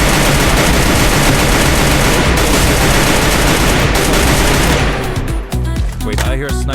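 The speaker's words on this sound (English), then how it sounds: "Wait, I hear a sniper." Rapid video-game gunfire, with dense continuous shots loud and close for about five seconds, then breaking into scattered bursts.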